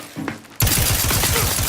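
A grenade goes off during combat in The Outer Worlds 2: a sudden loud blast after a short quiet moment, followed by sustained rumbling debris and rapid crackling bursts.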